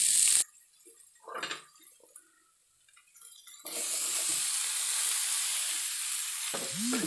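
Green peas and fried mixed vegetables hit hot masala in a pan, bringing a loud hiss that settles into a steady, bright sizzle after a short quiet stretch with a few clinks and stirs.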